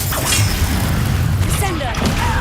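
Spell explosions from Bombarda and Confringo boom in the Hogwarts Legacy video game, a dense low rumble of blasts under spoken voices and music across the short moment.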